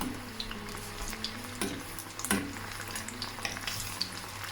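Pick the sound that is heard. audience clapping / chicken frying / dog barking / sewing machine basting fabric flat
chicken frying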